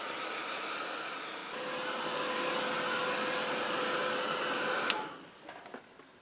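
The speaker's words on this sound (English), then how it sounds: "I'm wondering if I should try drying it versus letting it seep in." A hair dryer blows steadily and fairly loudly while drying wet paint, then shuts off near the end with a click, leaving faint room noise.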